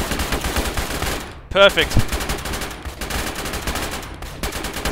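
Rapid bursts of automatic gunfire in the military shooter ARMA, loud and continuous with a brief gap, while a voice speaks over the shooting.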